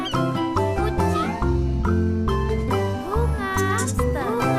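A cat meows repeatedly, several rising and falling calls over a continuous bright musical backing.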